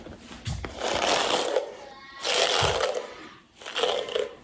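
A brush is drawn through curly Indian human-hair extensions in three separate strokes, each a close, raspy swish of bristles that rises and fades with short pauses between.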